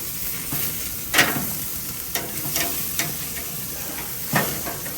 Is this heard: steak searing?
yes